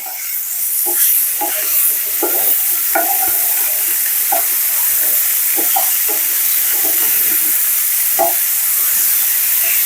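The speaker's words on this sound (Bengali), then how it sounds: "লবণ দিয়ে ভাজিটা এখন করে দেব" A vegetable bhaji fries in a pan with a loud continuous hissing sizzle, while a spatula scrapes and taps against the metal in an irregular stirring rhythm, close up and without talk.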